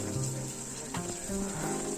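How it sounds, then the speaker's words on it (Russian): Water trickles and splashes steadily from a stone fountain in a German park, a continuous close wash of flowing water with no talk over it. "Вот видите, здесь часть воды стекает."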